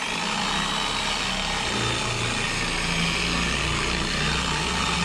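A machine polisher with a green Hex Logic polishing pad runs on faded car paint at around speed 4,300, producing a loud, continuous motor whir and buzzing hum close by, with no one talking.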